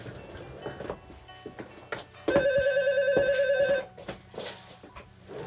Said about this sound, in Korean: 목사님한테 전화가 왔어요.